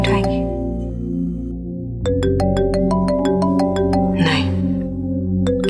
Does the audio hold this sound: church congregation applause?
no